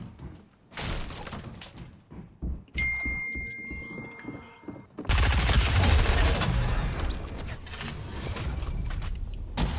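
Fortnite gunfire starts as scattered sharp shots and thumps. It builds into a dense, loud barrage of rapid fire and impacts that continues through the second half.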